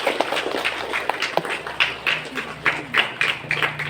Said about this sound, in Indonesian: Kita berikan tepuk tangan dulu buat anak-anak paduan suara.